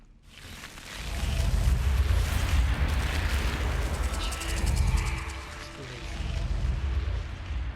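Confringo fire-blast spell in the Hogwarts Legacy video game, a deep rumbling explosion that rolls in after a second and surges in heavy low waves for several seconds, with crackling debris above.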